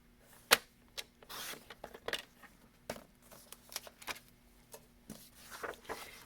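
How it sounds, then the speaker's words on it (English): Scissors cutting card stock for a paper pumpkin craft, heard as a series of quiet, irregular crisp snips and small clicks close by, one noticeably sharper than the rest. "We can come up now and cut that curvature off."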